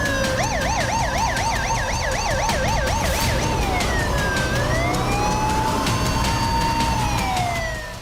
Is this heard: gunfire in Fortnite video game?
no